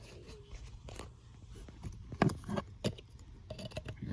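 A blower motor wiring harness connector on a 2002 GMC Yukon is handled and pushed into place, with scattered close plastic clicks, rattles and light knocks, quiet under faint background and no talk.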